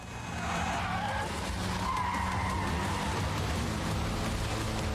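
Car tires skidding and squealing on a street in the video game Neverness to Everness, a steady loud screech over engine roar with a rain-like hiss throughout, no voices.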